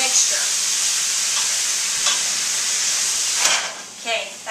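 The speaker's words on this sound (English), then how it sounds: "We're going to get that chicken cooked just a little bit." Chicken frying in a pan for a tequila fettuccine dish gives a steady close sizzle with stirring, dipping briefly near the end as a brief stir or movement interrupts it.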